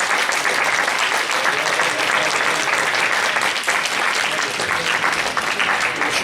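Steady applause from a church congregation welcoming a pastor to the front of a Korean church service in Auckland, dense and even throughout with no voices over it.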